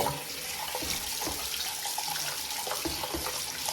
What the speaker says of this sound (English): we are actually going to be cleaning with some fresh water